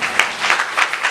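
A church congregation applauding Jesus, a short burst of clapping from a crowd of worshippers, fairly loud and uneven, with no speech heard.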